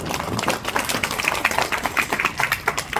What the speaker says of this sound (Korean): 정말 다시 한번 우리 배상민 대표님께 큰 박수 부탁드리겠습니다